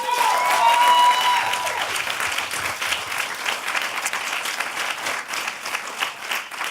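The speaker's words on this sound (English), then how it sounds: "Give yourselves a round of applause" A theatre audience at a comedy show bursts into dense, sustained applause that stays loud and steady throughout, with a few brief cheers early on.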